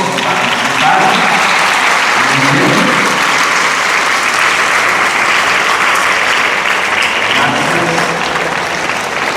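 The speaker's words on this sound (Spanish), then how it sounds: "Un fuerte aplauso a todos por participar." An audience at a church faith-formation gathering claps loudly and continuously, dense sustained applause filling the room for the whole stretch with no pause.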